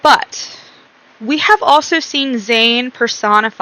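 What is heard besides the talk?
No distinct noise like a dog, phone or traffic.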